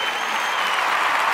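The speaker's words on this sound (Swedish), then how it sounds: "Det är ju värt en applåd." An audience at a Swedish dance-band show claps together in an even, bright wash of applause, loud and constant throughout.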